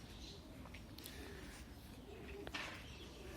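Elvan pigeons coo faintly in the distance, soft low calls against a quiet background hiss.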